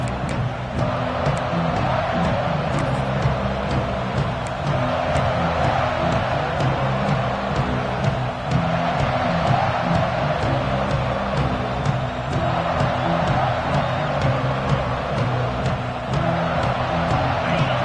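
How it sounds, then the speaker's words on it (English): Football stadium crowd at a college game versus Clemson, a dense continuous roar of cheering and whooping that stays loud and steady throughout, with faint voices mixed in. "They challenge this crowd to bring the energy, and I'd say they're doing that"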